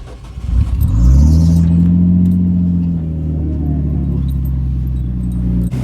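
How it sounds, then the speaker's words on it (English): A Nissan Skyline R34 engine idles steadily and loudly after coolant work, revving up briefly at the start and then holding a deep, even hum with no talking. "I'm gonna run the car, let it burp itself a little bit."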